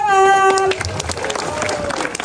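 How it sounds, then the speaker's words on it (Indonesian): Applause rises from an audience at an outdoor stage event where a singer is being introduced, with a brief sung or sustained tone at the start, then steady dense clapping mixed with crowd noise. "Berikan tepuk tangan."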